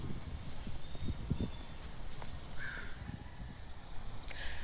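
Outdoor hoof clops and shuffling of a horse near a water bucket set in fresh concrete, irregular soft thuds over steady background noise with faint birds.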